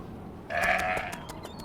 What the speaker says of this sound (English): there are sheep that run away from us.